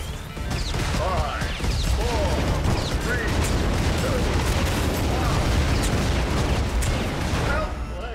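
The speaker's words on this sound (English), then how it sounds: "I like the explosions." Loud, dense explosions and crashing impacts from the car combat video game ShockRods, a continuous chaotic barrage with whooshing and metallic clatter throughout.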